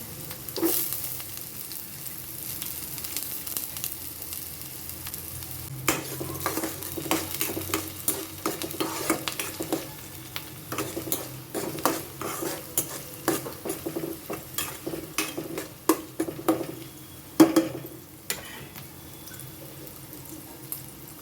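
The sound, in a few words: chopped onions frying in a pan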